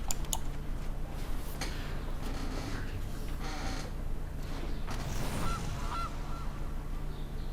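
A cartoonish goose honk from the Magic the Gathering Arena card game plays over a dense, busy bed of game music and effects, with a short tonal call rising out of the mix near the end.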